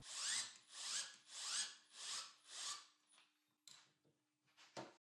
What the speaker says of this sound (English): I can then mark the position of the holes so I can drill out for some M6 insert nuts